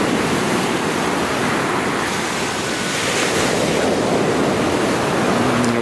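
Sea waves washing onto the shore at Cleopatra Beach in Alanya, a steady, dense roar of surf with gusting wind across the microphone, continuous and fairly loud with no voices.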